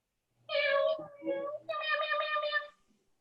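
People voicing cat meows during a Pilates class, two drawn-out imitated meows in quick succession, clear and close, with no other sound around them.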